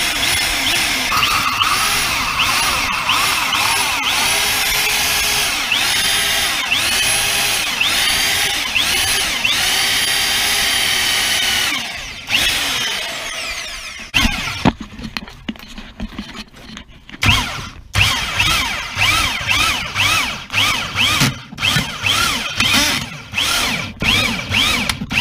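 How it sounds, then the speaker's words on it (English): A power drill with a hole cutter bores through the wet floor of a sinking narrowboat, whining steadily and loudly, then breaking into short, uneven bursts as the cutter bites in and stops and starts. "I'm going to drill a hole in this floor now."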